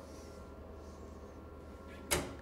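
Printer door on an OKI Data Pro 510 DW label printer shuts with a single sharp clack near the end, over a steady machine hum.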